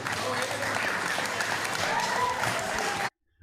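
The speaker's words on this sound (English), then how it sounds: "I don't know why that prompted a clap from the" A studio audience at a livestream claps in a thick, sustained burst with voices mixed in, staying loud and even for about three seconds before cutting off abruptly into silence.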